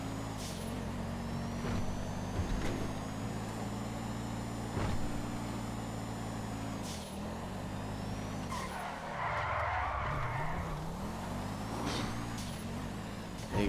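A GTA-style police car from the LSPD is driven in a video game, its engine droning steadily throughout, with tires squealing and skidding at intervals as the revs rise and fall.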